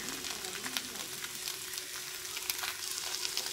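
Chicken sandwich filling fries with red chili, salt, turmeric and chaat masala in a pan, a faint, steady crackling sizzle with small pops, close and continuous, with no talking.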